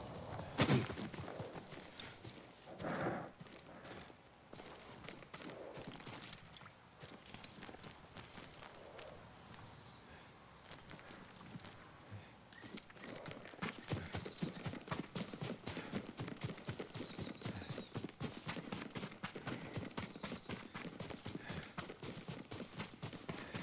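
Horse hooves clip-clop steadily across ground in the video game Ghost of Tsushima, the rhythmic walking growing busier and louder in the second half, with a brief neigh early on; no speech.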